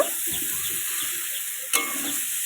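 Seeded banana pieces fry in a pan with a steady, close hiss of hot oil, broken near the end by one sharp clatter; no one talks.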